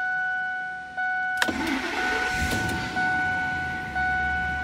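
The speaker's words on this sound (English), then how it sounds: "we can go ahead and fire the engine, take a listen, make sure it sounds right" A Ford 5.4L 2-valve Triton V8 cranks and fires up after timing work, with a steady warning chime in the background, then settles into a steady idle with a couple of small surges, close and fairly loud.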